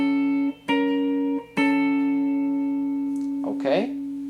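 An electric guitar double-stop from a solo rings out, re-struck twice in a sustained, steady pattern, with a brief slide near the end.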